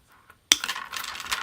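Wire cutters snip through floral wire for a doll's flower crown: one sharp, close snap followed by a brief rustle of handling, with no voices.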